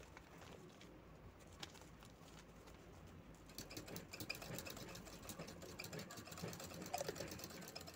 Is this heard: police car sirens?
no